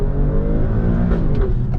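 An Alfa Romeo Stelvio Quadrifoglio four-wheel-drive SUV engine revs hard and accelerates, a loud, close, rising roar with deep rumbling harmonics and no talking.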